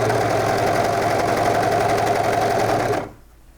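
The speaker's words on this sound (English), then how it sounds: "for this next piece, I am going to switch to my serger" Serger stitching fabric for pajama pants, a steady fast motor whir with rapid needle chatter running evenly for about three seconds before cutting off sharply into near silence.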